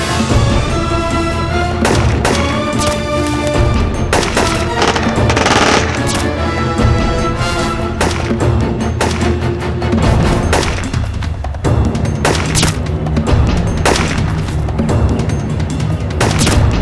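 A shootout in a TV crime drama brings loud, sustained automatic gunfire with heavy booms and crashes, packed densely over a continuous dramatic background throughout.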